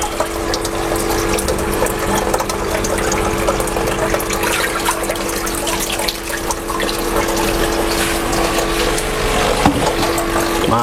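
A constant mechanical hum and bubbling drone from an aquarium air pump in a tank of young Asian sea bass, with faint watery gurgling and small clicks, steady for the whole stretch.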